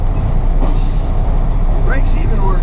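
Loaded container truck releases its air brakes with short pneumatic hisses over a heavy idling diesel rumble, close by, with someone talking.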